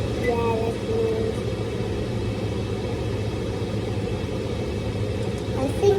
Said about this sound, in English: If you have this, please turn on the exhaust.